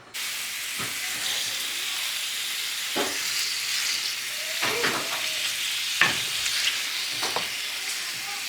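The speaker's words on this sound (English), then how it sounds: "while my sausages are cooking" Italian sausage frying in olive oil in a cast iron skillet, a steady, close sizzle broken by a few louder spatters and scrapes of stirring, with no talk.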